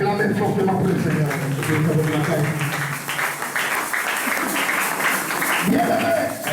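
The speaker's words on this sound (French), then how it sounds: "Est-ce que quelqu'un peut acclamer fortement pour le Seigneur?" A church congregation applauding loudly, steady dense clapping that fills the space, with a preacher's voice and cheering voices mixed in over it.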